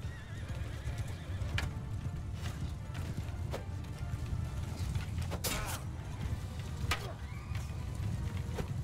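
Horses in a Mount and Blade 2 Bannerlord battle whinny several times over a constant rumble of hoofbeats, with clattering mechanical sounds, all fairly faint and distant throughout.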